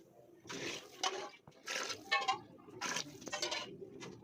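Water is poured from a vessel over rice that has been soaked and washed, coming in a few splashing bursts close by, with no voices.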